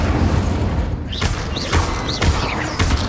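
An Incendio fire spell cast in Hogwarts Legacy bursts out in a run of whooshing, booming flame blasts, several quick rising swooshes with thuds, close and loud, with no talking.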